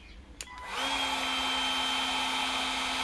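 A Milwaukee 18V cordless heat gun switches on with a click and spins up into a steady, whiny, hairdryer-like blowing drone with a sustained motor tone, close and continuous.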